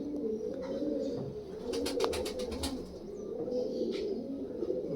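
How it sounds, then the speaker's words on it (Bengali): Pigeons coo continuously in soft, low, rolling murmurs close by, several birds overlapping in a steady drone with a few faint chirps above it. "একদম পিওর কোয়ালিটির পায়রা। দেখুন পায়রা"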